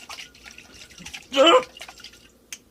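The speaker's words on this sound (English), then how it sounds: "I guess I will just put some water inside and try to rinse out the last bit of it" Water is poured into a cooking pot to rinse it out, giving one short splashing burst in the middle of an otherwise quiet kitchen, followed by faint trickles.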